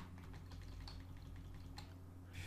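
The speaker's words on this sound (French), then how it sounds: "Et ensuite, vous enfoncez les touches CTRL plus D." Computer keys are pressed for a keyboard shortcut in Illustrator 2021, giving a few faint, quick clicks spaced across a quiet room with a low background hum.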